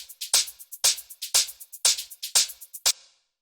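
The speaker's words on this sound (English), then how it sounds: "After that, we have the hi-hats" Layered hi-hat samples from a deep house track tick in a steady, crisp rhythm, about a dozen bright, airy hits in alternating accents, loud and alone.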